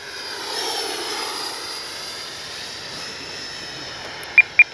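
An FMS SU-27 twin 70mm electric ducted-fan RC jet whines steadily at a distance in flight, a faint thin hum with a few short beeps at the end.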